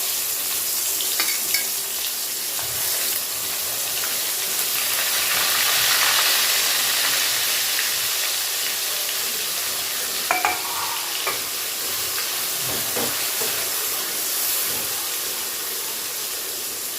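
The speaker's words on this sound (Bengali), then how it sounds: "এখন আমি দিয়ে দিচ্ছি এই কেটে রাখা পেঁয়াজগুলো।" Chopped onions for aloo dum hit hot oil over tempered spices in a pan, giving a steady, loud broadband sizzle with hissing steam and occasional stirring clinks for the whole stretch, no talk.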